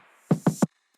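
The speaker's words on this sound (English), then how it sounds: "just doing a bit of a high pass filter around 150 hertz" Bit-crushed drums thinned by a high-pass filter around 150 Hz, three quick, close, mid-heavy hits in a tight rhythm followed by silence.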